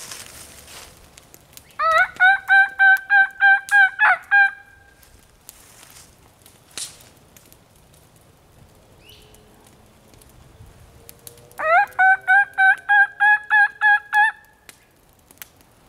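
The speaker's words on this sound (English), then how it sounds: "We have a turkey just out here in this field." A wild turkey gobbles twice in a field, each a rapid rattling burst of about eight notes, several seconds apart against a quiet outdoor background.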